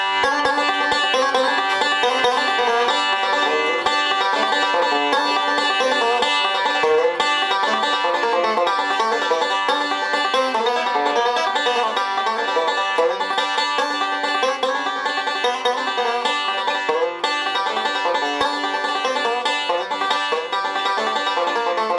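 A tune picked fast on a string instrument, a continuous bright stream of rapid notes at steady loudness with no voices.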